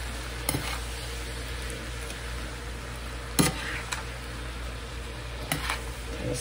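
Seasoned garlic shrimp sizzle steadily in a pan as they are stirred, a constant close frying hiss broken by a few sharp utensil clicks against the pan.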